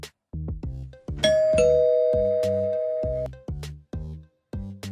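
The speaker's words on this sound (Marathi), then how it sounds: "आणि त्याने बेल वाजवली" An electronic doorbell chimes close up, a long two-tone ding-dong in the middle, amid a repeating pattern of low beeps and tones.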